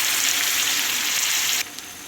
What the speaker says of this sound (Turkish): Şimdi sıra geldi yarım su bardağı suyunu koymaya